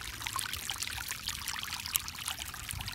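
Water streams and pours continuously while draining an onion field plot, a fairly quiet splashing rush with small gurgles and no voices.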